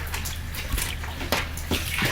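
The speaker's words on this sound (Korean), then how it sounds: "민물로 씻으면 굴이 불기 때문에 반드시 바닷물로 씻어야 합니다" Seawater sloshes and splashes while freshly harvested oysters are washed in it, with a few distinct close splashes over a low continuous background and no voices.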